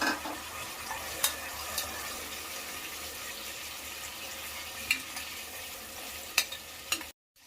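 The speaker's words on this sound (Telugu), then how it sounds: "మిక్సీకి పట్టుకున్నటువంటి ఆనియన్ టమోటా పేస్ట్ వేసుకొని ఫ్రై చేసుకోవాలి." A blended onion and tomato paste fries in a pan for restaurant-style chole, giving a steady soft hiss and bubbling at moderate distance, with a few light clicks and scrapes, then a sudden cut near the end.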